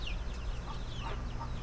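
Hens in a new coop clucking softly over a low background hum, a few brief murmuring calls scattered across the short stretch, close but quiet.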